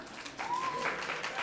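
Faint applause carries through from a neighbouring room at a comic convention, a soft, distant patter of clapping.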